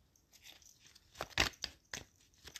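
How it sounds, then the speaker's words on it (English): Soft crinkly riffling and a few brief papery flicks as tarot cards are shuffled, quiet and close, with no voices. "I'm gonna shuffle another cards."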